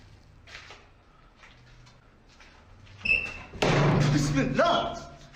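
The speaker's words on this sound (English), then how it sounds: "doors shutting behind his back with a bang" Doors banging shut in a scary haunted-house setting, a sudden loud thud near the middle followed by a sustained burst of crashing, reverberant noise, with quieter muffled sounds and faint voices beforehand.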